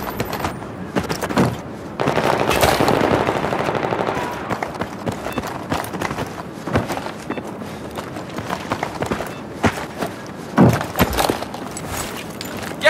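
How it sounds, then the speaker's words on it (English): Machine gun fire in the video game Battlefield 3 comes as repeated short bursts with sharp gunshot cracks, mixed with running footsteps and loud, busy combat noise throughout. "The enemy machine gunner."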